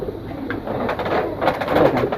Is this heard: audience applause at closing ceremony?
no